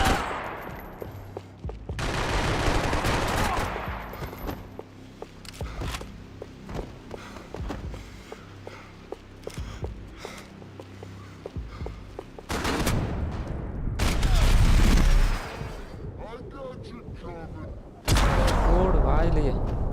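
SMG fire in Max Payne 3 crackles in repeated rapid bursts with thuds and footsteps, loud and close, interrupted by heavier blasts and rumbling impacts toward the end.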